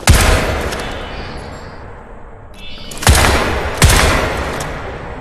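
Sharp automatic weapon fire in Crysis 3, an opening burst followed by two loud separate volleys near the end, each with a ringing decay, with a quieter lull between.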